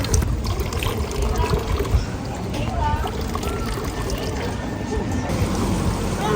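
Water running steadily from a village drinking fountain tap in Grindelwald, Switzerland, a continuous splashing trickle close by with people talking over it.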